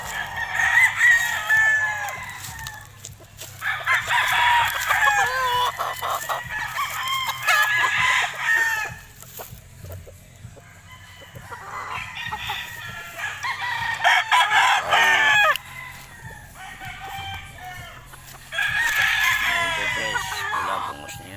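A black bulik rooster crows repeatedly, four or five loud, close cock-a-doodle-doos in a steady rhythm, with faint background clucking and no talk.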